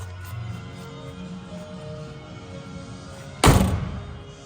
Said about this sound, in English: Typical 60s GM glove boxes, you gotta give them a slam.